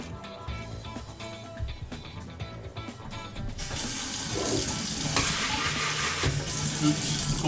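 Tap water runs into a kitchen sink during cooking prep, switching partway through to a louder, fuller broadband gush that continues steadily to the end, with clatter and kitchen sounds underneath early on.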